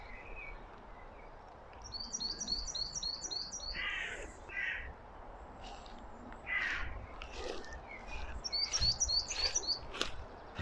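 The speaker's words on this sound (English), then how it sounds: "You can hear the birds singing." Birds chirp and call in a cemetery in bursts of quick repeated tweets over steady outdoor ambience, with a few louder calls toward the end.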